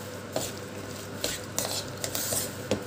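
Sesame laddu mixture with added roasted gram being stirred in a metal pan or bowl, a utensil scraping and clinking in several sharp strokes over a steady low background hum.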